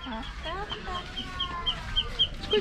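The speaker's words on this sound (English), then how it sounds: "Look at the baby ducks." Baby ducks peep in a rapid series of thin, high chirps amid softer clucking fowl and outdoor background murmur in the aftermath of Typhoon Odette.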